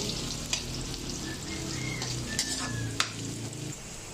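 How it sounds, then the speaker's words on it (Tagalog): Garlic and onion sauté in hot oil for sopas, a dense steady sizzle close up, punctuated by a few sharp clicks of a utensil against the pan, with no one talking. "Ilagyan ng garlic and onion."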